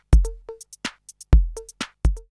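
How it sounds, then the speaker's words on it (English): Drum loop from a Korg Volca Beats drum machine in a Chicago house style, with punchy kicks, snappy hits and short hi-hat ticks repeating in a tight, dry pattern, loud and alone. "I will use the same drum loop and it sounds like"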